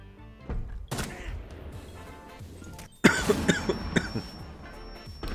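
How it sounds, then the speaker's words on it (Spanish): A person coughs in a burst of several harsh coughs, close by, after a couple of earlier single coughs and throat noises. "llevo todo el día sin toser. De repente, a toser"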